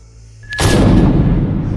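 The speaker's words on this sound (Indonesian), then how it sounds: "Dan ada suara tembakan" A single sharp gunshot cracks out and leaves a heavy, rumbling boom that hangs on and fades slowly.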